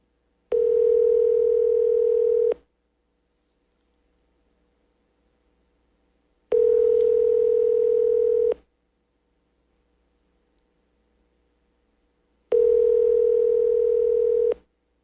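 Telephone tone sounding in three steady two-second pulses separated by long silences while a call goes through to voicemail, loud and clear with no voices.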